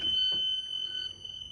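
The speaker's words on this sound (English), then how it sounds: "Audible alarm." A bus emergency door alarm gives a steady high electronic tone, close and fairly loud, sounding alone for just over a second.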